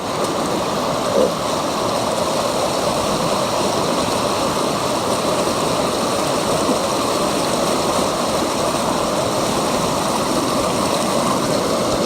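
Fast-flowing water of the Heber River rushes steadily and loudly, a continuous broadband roar with no pauses or voices.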